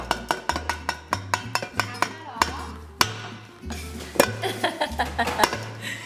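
A whisk clatters against a bowl while cheesecake batter is mixed, making a steady run of sharp metallic clinks and knocks in a quick, fairly even rhythm, close and loud, with a brief pause midway.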